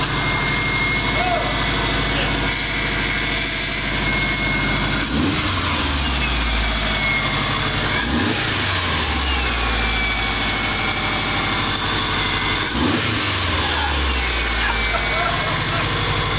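An engine in a 1985 Volkswagen Vanagon cranks, fires and keeps running, a steady rumble with several surging revs, close and loud while people talk over it.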